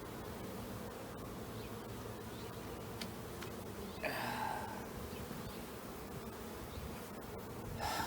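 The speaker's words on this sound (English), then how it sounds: "the bees are being quite gentle" Steady, dense buzzing of many honey bees close up during a hive inspection, a continuous hum with no talking.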